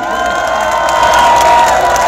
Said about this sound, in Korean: 여러분 필승의 동지회로 뜨거운 박수 함성으로 맞이해 주시기 바라겠습니다